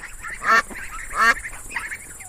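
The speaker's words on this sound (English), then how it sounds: "D for duck." Duck quacking: three short nasal quacks spaced evenly over a soft background hiss, moderately close and alone.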